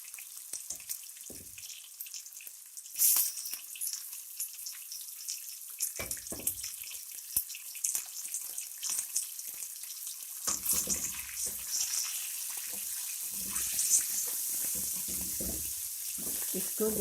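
Boneless chicken pieces frying in browned ginger garlic paste in a handi, a steady close sizzle with stirring scrapes and occasional clatter throughout.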